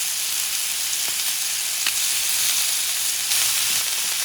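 Honey-glazed sausages and ribs sizzle on a hot cast iron griddle, a steady, close, dense hiss and crackle that holds evenly throughout with no voices.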